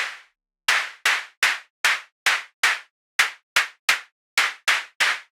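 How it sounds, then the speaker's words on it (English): Thirteen dry synthesized claps from a Maschine drum synth, built for a house beat, strike one after another at an uneven pace after a short pause, each crisp and sharp with a quick decay, alone with no voices. "Kind of like another clap."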